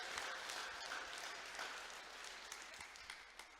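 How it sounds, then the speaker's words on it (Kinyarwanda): A church congregation applauding, a sustained wash of many hands clapping that sounds somewhat distant and fairly quiet, slowly thinning toward the end. "Muhereze icyubahiro, mukomerere n'amashyi kabyara abahungu n'abakobwa."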